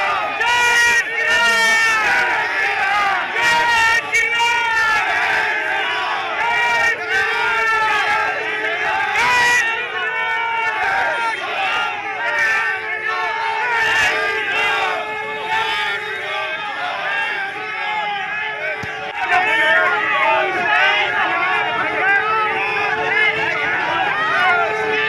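Protesting activists push against a police barricade at Prakash Chowk in Muzaffarnagar, with a dense, loud crowd roaring and shouting continuously, many overlapping voices and no break throughout.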